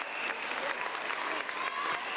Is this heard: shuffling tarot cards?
no